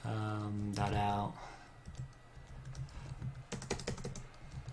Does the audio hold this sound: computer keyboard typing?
yes